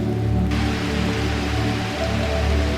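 Heavy rain pattering on the dense canopy of the Bukit Raya mountain forest, a steady continuous wash of drops with a low hum beneath, no voices.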